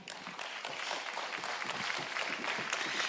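An audience at an award ceremony claps steadily, a dense, moderately distant patter of many hands sustained throughout without pause.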